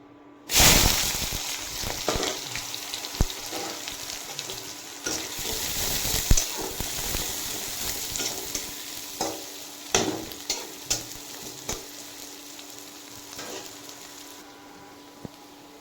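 Onions dropped into smoking-hot mustard oil burst into a loud sizzle that settles into a steady crackling hiss, punctuated by repeated scrapes and knocks of stirring up close.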